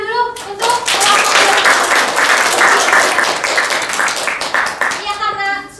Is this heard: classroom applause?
yes